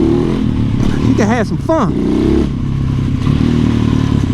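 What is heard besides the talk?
lightweight motorcycle revving, doing wheelies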